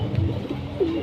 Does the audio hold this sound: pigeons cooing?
yes